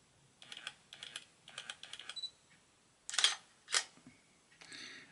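A faulty Sigma 17-50mm lens on an SLR camera hunts for focus while aimed at a computer keyboard, giving repeated short buzzing and clicking bursts with quiet gaps in a silent room.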